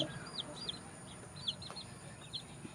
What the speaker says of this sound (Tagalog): sisiw ng Rhode Island